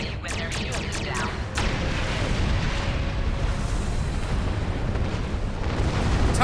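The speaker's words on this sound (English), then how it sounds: "Use your torpedoes on an enemy when their shield is down." Photon torpedoes strike an enemy starship in the Star Trek Online space game, setting off a rolling, sustained explosion rumble after a quick series of sharp impact bursts. The blasts stay loud and dense throughout.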